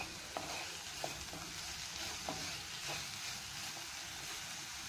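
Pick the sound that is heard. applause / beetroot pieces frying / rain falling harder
beetroot pieces frying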